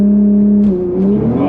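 An Audi RS4 pulls away under launch control, its engine note loud and close, climbing steadily through the revs with a strong, rising roar.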